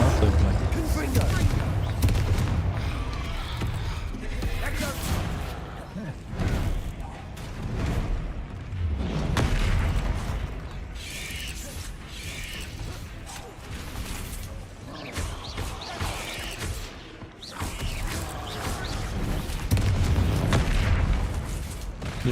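Confringo explosive spell blasts in Hogwarts Legacy, repeated booming bursts and crackling impacts during dense combat noise, loud and continuous, with a voice speaking amid the action.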